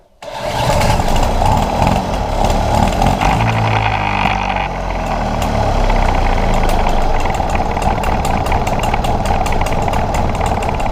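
A small two-stroke Motobécane AV46 moped engine, long seized, catches and runs, revving unevenly with a buzzy, rattling drone that wavers in pitch and stays loud throughout.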